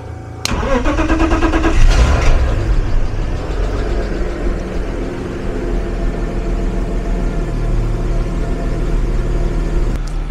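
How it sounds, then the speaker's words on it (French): A BMW with a full-ethanol engine map cranks and fires up on a near-freezing day after years unused, catching quickly with a loud burst, then settling into a steady, close idle. "la voiture tourne au quart de tour, et qu'elle tourne vraiment super bien"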